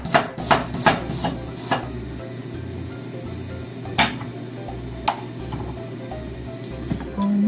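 A knife cuts carrot into thin strips on a board, sounding as a run of crisp, close chopping taps that start quickly and then thin out into sparse, irregular strikes over a low background hum.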